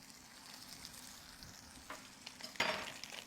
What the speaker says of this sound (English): We'd put it in our hot frying pan.